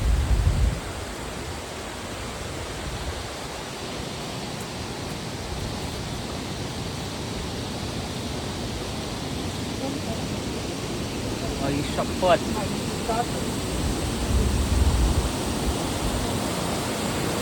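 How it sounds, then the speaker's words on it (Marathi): Rushing water streams steadily along a rain-soaked trail on the Kalu waterfall trek, a dense, even roar filling the whole stretch, with a voice briefly speaking over it. "कसलं पाणी वाहतं इकडे"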